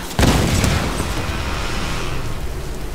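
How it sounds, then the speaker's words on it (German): An in-game explosion in Tomb Raider erupts suddenly as a heavy booming blast, then a dense rumbling roar that holds loud and steady for the rest of the moment, with no talk. "Okay, warum ist er jetzt explodiert?"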